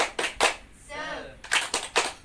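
Children in a classroom do a rhythmic clapping chant, with a few sharp, close clap bursts, a voice calling out briefly in the middle, then more claps in a quick pattern.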